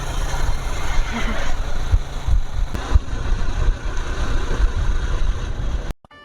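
A Hero motorbike ridden along a road near Taki gives a steady, close engine drone mixed with heavy wind rush, continuous until it cuts off abruptly at the end.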